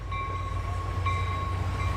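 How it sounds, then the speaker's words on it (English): A train rumbles steadily through Niles Canyon, its low continuous drone holding through the clip with a faint tonal whine above it and no talking. "Here, a train."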